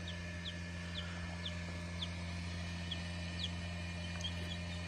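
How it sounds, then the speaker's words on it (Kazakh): Tiny newly hatched chicks peep softly every half second or so inside an incubator over its steady low mechanical hum. "инкубатордан балапандар шығып жатыр"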